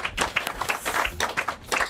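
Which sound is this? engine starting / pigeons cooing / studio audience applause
studio audience applause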